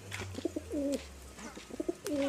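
Pigeons coo close by in soft repeated rising-and-falling phrases, two rounds of gentle throaty calls with brief pauses between.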